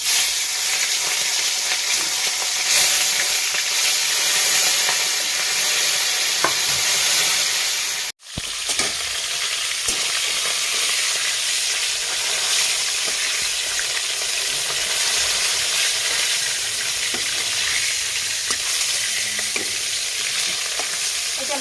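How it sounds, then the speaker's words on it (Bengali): Fish frying in hot oil for a curry with drumsticks and potato, a loud, steady sizzle running close and continuous with a brief dropout partway through. "মাছটা ভাজা দেবো"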